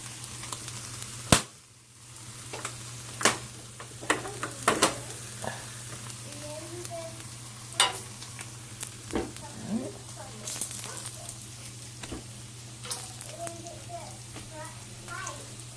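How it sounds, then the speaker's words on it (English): Bacon sizzles and crackles in a cast iron pan, a steady close frying hiss broken by sharp pops and spits, with a few faint scrapes of stirring. "I'm using a cast iron pan to make this bacon."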